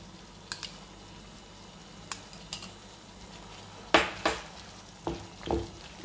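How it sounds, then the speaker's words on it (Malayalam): Onion and tomato fry in a pan as a utensil stirs them, giving a steady low sizzle broken by several sharp scraping clinks, with a cluster of louder stirs near the end. "സവാളിട്ട് നമുക്ക് നന്നായിട്ടൊന്ന് ഇളക്കാം. ഇതിലേക്ക് തന്നെ നമുക്ക് തക്കാളി ആഡ് ചെയ്ത് കൊടുക്കാം."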